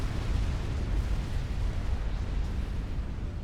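Super nuke detonations in the real-time strategy game Supreme Commander during a large 6v6 custom match, a continuous heavy rumbling roar that holds steady and loud throughout with no distinct separate blasts.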